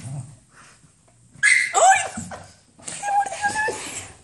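A dog gives short whimpers and high yips in two close bursts separated by quiet stretches, with breathy sounds at the start.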